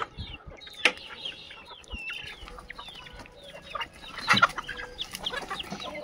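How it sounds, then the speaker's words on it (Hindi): Desi chickens on a poultry farm cluck repeatedly in short, irregular bursts, with a few louder squawks, close by and with no talking. "एक बार मुर्गियों को मैं बाहर निकालता हूँ।"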